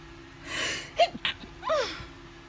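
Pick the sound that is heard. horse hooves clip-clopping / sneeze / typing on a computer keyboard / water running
sneeze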